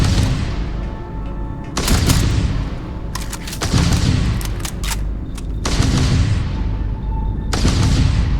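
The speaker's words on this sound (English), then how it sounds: "I'm not sure where that shooting is coming from" Gunfire in Starfield aboard a ship interior, with repeated bursts of shots and heavy booms rolling in waves over a constant low rumble, loud and close, with no talk.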